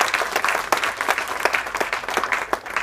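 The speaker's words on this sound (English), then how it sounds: "please give a huge round of applause to all our esteemed panel today" An audience at a business summit in New Delhi claps for a panel, with sharp individual claps layered over dense steady applause, fairly close.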